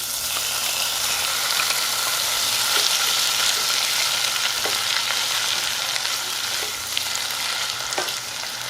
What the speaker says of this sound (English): We're gonna continue to cook our tomatoes and our onion for about 4 minutes